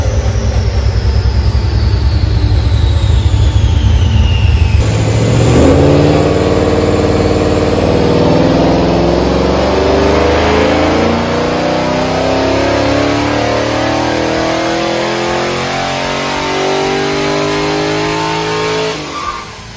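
A Holden VE SS with an L77 V8, fitted with headers and high-flow cats, runs loud and close, its engine note rising and falling through sustained revving over nearly twenty seconds.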